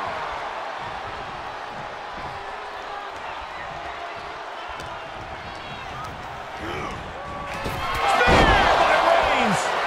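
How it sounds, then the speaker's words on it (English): Crowd in the WWE 2K24 wrestling video game, a steady arena roar of cheering and applause that swells louder near the end, with a commentator talking over it. "The WWE Universe is showing their appreciation for the action they're seeing."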